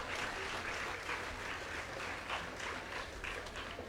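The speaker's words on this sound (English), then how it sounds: "please give the judges who worked so hard a round of applause" A crowd at a school S.T.E.A.M. fair applauds the judges with sustained, dense clapping that stays even throughout, faint and somewhat distant, with no speech.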